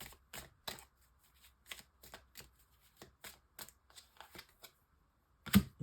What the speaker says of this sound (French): Je vais quand même mettre une carte sur la tour, là, pour voir